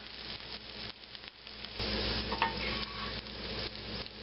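A sheepherder breakfast fries in a pan, with a steady sizzle that grows louder partway through and soft stirring sounds.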